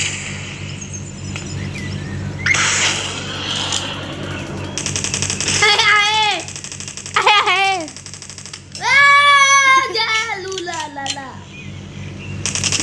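Gunfire in the Dude Theft Wars multiplayer video game: bursts of rapid automatic shots crackle in short volleys between stretches of quieter game sound, with players talking and laughing throughout.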